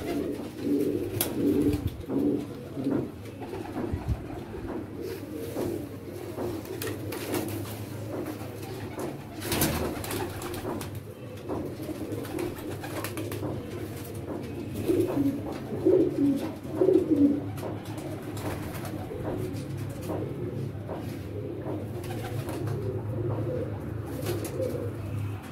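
A ten-year-old pet racing pigeon coos repeatedly at close range, soft rhythmic bursts over a steady low background hum, with a denser run of coos midway through and no talking.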